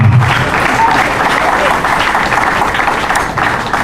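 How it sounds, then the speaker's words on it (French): Sustained applause from a crowd at a diploma award ceremony, dense steady clapping throughout, loud and close, with voices mixed into the noise. "Est-ce que nous pouvons l'applaudir?"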